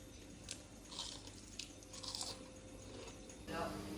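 Crisp homemade waffles bitten and chewed close to the mouth, several sharp crunchy bursts spread through a few seconds with chewing between them, over a low steady hum.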